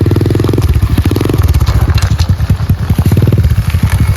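A cold 1985 Yamaha XJ700 motorcycle being coaxed to start, its engine sputtering and catching, then running loud and close in a rough, pulsing rhythm.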